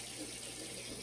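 Tap water runs steadily into a sink while a face is rinsed with cold water, a continuous hissing splash that is close and fills the short moment alone.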